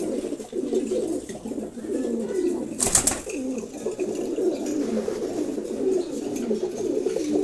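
Low, murmuring coos from male Giribaz racing pigeons roll on continuously throughout, steady and close, with a brief sharp rustle or flutter partway through.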